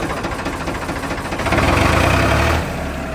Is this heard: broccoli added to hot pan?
no